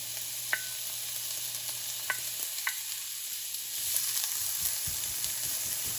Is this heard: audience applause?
no